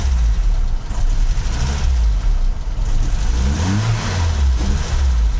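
A Mercedes W123 230E engine being revved in a workshop test after repair of a faulty fuel distributor, its close, loud mid-pitched roar rising and falling through several blips of the throttle, with no talking.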